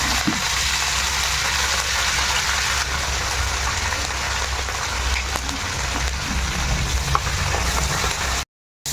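Dried red chillies and curry leaves frying in hot peanut oil give a steady, loud, dense sizzle that holds evenly throughout and cuts off abruptly near the end, with no voices.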